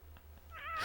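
A cat in the video game Shadow of Destiny on PS2 starts a rising meow right at the end, brief and clear over a low steady hum.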